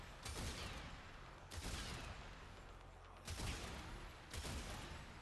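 Several loud bursts of sniper rifle gunfire in a video game, each a sharp blast trailing off, spaced a second or two apart over a constant background hiss.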